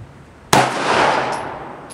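A single sharp shot from a TriStar C100 pistol at a shooting range, a loud crack followed by a long ringing decay, with faint metallic pings afterward.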